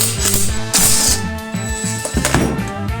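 A ratchet wrench with an 8mm socket removing the starter bolts from a go-kart engine clicks in rapid repeated bursts, close and loud, with brief pauses between strokes.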